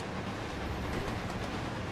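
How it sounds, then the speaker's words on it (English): A train speeding along its rails in Resident Evil 0, a steady, dense rumble with a faint rhythmic rattle throughout, no talking. "The train is quickly picking up speed."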